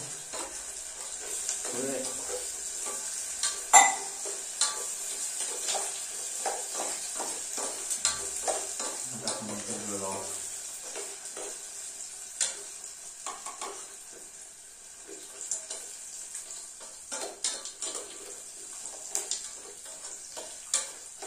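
Onion, peanuts, cumin and mustard seeds sizzle in hot oil while being stirred for khichdi, with a faint steady fry and scattered ticks of the spoon on the pan, under talk.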